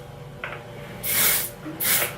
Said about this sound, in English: spray it more of the dry conditioner